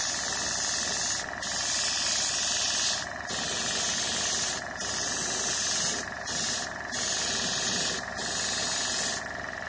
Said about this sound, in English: We want a sort of a wide spray, but not too much.